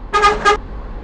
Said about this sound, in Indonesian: Klakson nomor 2.